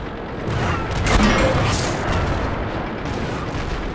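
Artillery shells burst close by in the World of Tanks battle game, a heavy boom around the middle followed by rumbling blast noise and mechanical clatter, loud and near with no talk over it.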